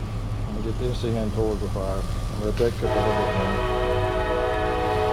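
A passing train sounds its horn in long sustained blasts, loud and steady behind someone talking while he grills chicken outdoors over a fire.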